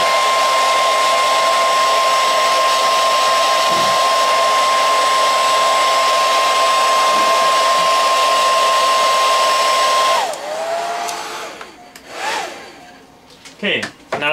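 A hot air blower runs loud and steady while heating resin casting molds, a continuous broadband whoosh with a fixed whine, then cuts off partway through, leaving quieter handling clatter.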